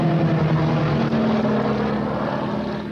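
A vintage propeller airplane drones past slowly with flaps down at a 1986 airshow in Cranfield, a loud continuous engine note that shifts slightly in pitch and fades a little toward the end.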